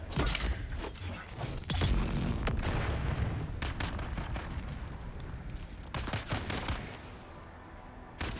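A grenade detonates in the game Dune Awakening, a heavy booming blast with rumbling low end, followed by scattered sharp cracks and bursts of gunfire-like impacts in a busy combat soundscape.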